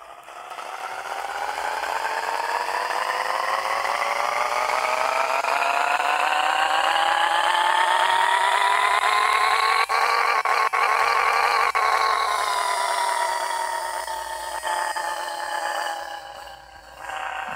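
A Nissan GTR engine revs on a dyno in the video game Pixel Car Racer: a loud synthetic engine tone climbs steadily in pitch for about ten seconds, holds near the top, then drops and fades.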